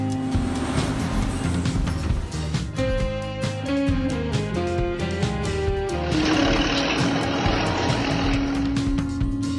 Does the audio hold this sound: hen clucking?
no